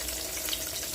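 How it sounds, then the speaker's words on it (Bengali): Pointed gourd (potol) pieces frying in hot oil, a dense continuous sizzle and crackle, close and even throughout, with no talking. "এখানে এতগুলো পটল ভাজা হয়ে যাচ্ছে।"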